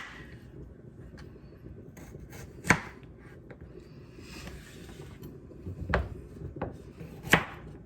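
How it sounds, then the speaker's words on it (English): A knife chops on a cutting board in a few sharp, irregular strikes, close by, with light clatter and rustling between the cuts. "I'm going to continue dicing these up"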